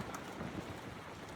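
Strong wind blows steadily through trees and buffets the microphone in a constant, dense roar with no voices.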